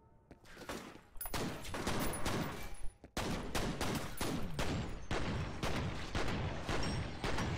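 Dual pistols firing in the shooter F.E.A.R.: a dense, rapid string of loud gunshots with echoing impacts, one brief pause, then continued near-constant fire.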